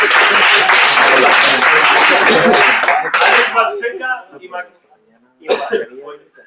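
Loud audience applause at a game development jam round-table in Madrid, a dense burst of clapping that breaks off into scattered claps, with a short renewed flurry and voices in the room.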